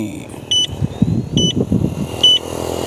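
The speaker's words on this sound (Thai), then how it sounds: "จะมีเสียงไฟเลี้ยวข้างซ้ายให้ด้วย" The left turn signal of a Sabai electric scooter chimes three times at an even pace, each a short, bright electronic beep, close by with engine-like background rumble between them.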